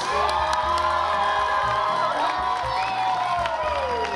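A theatre audience cheers, whoops and shouts loudly for the seniors, children's voices among them, a dense continuous roar with some scattered clapping.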